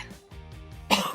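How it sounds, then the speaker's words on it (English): A person with a cold and stuffy nose gives a short throat-clearing hum and then one sharp, raspy cough, close and loud. "I wish I could get rid of this cough and the stuffy nose"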